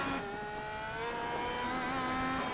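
A race car in iRacing spins and wrecks: a loud, steady engine drone with shifting pitch and tire noise, heard alone without talk.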